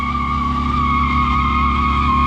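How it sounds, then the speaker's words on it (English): A car doing a burnout at an event with Corvettes and a Dodge Demon, its tires squealing loudly and steadily over a heavy engine drone. "Do burnouts?"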